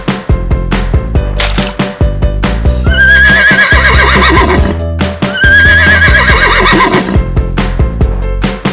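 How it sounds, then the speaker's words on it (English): Horse neighing in two loud, drawn-out whinnies over steady background music, each a rising then trembling call lasting about two seconds, with a short gap between them. "Horse."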